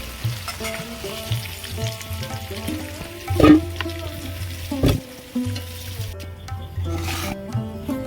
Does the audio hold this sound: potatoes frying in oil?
yes